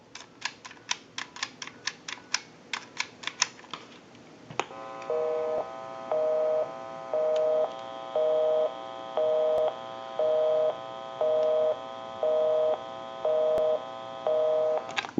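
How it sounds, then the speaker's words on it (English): Rapid series of dialing clicks on a Western Electric telephone, followed after a short pause by a repeating on-off busy signal pulsing about twice a second, clear and alone with no voices. "We'll call my number, and it'll be busy."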